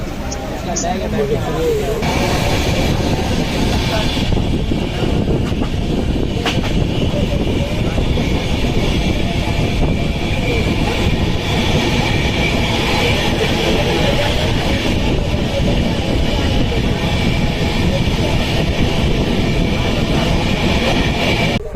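A crowded passenger train on the Mumbai to Shirdi route rolls along with a constant loud rumble and hiss, and passengers' voices mix into the noise throughout.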